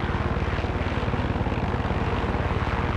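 A helicopter in the video game Far Cry 6 thumps with a loud, rapid rotor chop and constant engine roar, close and steady throughout with no voices.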